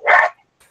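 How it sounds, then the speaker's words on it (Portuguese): A single sharp dog bark, loud and close, is followed by a couple of faint, short trailing yips in an otherwise quiet space. "para quem ficou com gastura de ouvir o cachorro latindo"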